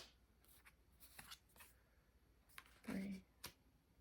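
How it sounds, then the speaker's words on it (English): Tarot cards being shuffled and drawn make a string of soft, quick papery rustles and flicks at close range, ending in one fuller riffle-like burst and a final sharp flick, all fairly quiet. "I'm gonna draw some more cards."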